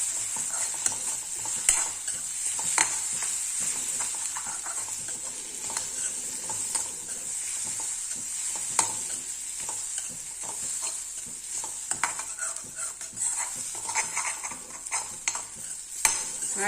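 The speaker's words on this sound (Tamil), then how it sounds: "நல்லா சிம்மில் வச்சுட்டு நல்லா கிளறி விட்டுருங்க." A spatula stirs and scrapes egg and drumstick leaves in a heavy-bottomed pan over low heat, with steady soft sizzling and occasional clinks of utensil on metal throughout.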